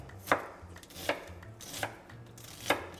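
A knife chops red onion on a board as part of preparing a Filipino tilapia and vegetable dish, giving four spaced, crisp cuts at an unhurried pace, near and fairly quiet.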